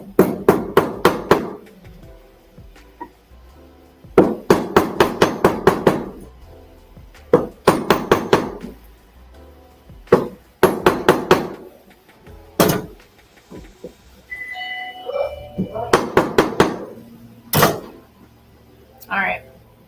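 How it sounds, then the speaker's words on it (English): A hammer strikes a metal piece to flatten it in rapid bursts of sharp, ringing blows, loud and close, grouped in runs of several quick hits separated by short pauses, with a few single heavier strikes between. "I'm going to make sure by hammering it flat."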